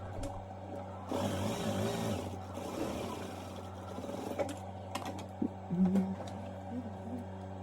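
An electric sewing machine whirs steadily while stitching twice around a Yoruba fila cap, its motor hum running continuously with louder bursts and a few sharp clicks and knocks near the end.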